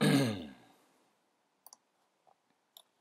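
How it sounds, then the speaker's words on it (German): Computer mouse clicks while working in Cinema 4D, a few sharp isolated double clicks spaced over a quiet stretch after a fading breathy sound at the start. "Ich klicke mal hier so ein bisschen rum."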